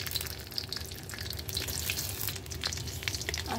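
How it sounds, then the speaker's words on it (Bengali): Chopped garlic frying in hot oil gives a steady, moderately quiet crackling sizzle with scattered pops throughout, and no voices. "তেল গরম করে এখানে রসুন কুচি দিয়ে দিব"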